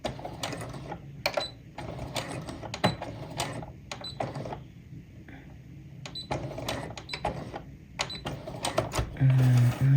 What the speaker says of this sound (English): Well, what I'm gonna do is I'm gonna backstitch.